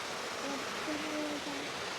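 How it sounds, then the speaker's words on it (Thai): A small clear-water waterfall at Wat Pha Lat in Chiang Mai pours in a steady, even hiss, with faint short tones briefly heard behind it. "เขาก็อยู่ติดกับน้ำตกน้ำใสมาก"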